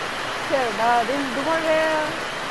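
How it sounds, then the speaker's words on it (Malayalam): Heavy monsoon rain drums steadily on a sheet roof at a farm home in a village, a constant broad hiss that runs the whole time beneath someone talking over it. "മഴ ഭയങ്കര മഴയാ, അത് കാരണം ഉണ്ടോ ഷീറ്റിന്റെ സൗണ്ടും ഉണ്ടാവും."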